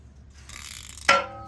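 A T50 socket turns the rear brake adjuster clockwise on a 2023 Gen 3 Toyota Tundra, giving a faint metallic scrape that ends in one sharp ringing click, close and alone.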